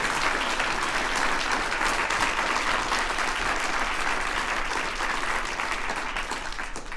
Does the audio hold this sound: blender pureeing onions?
no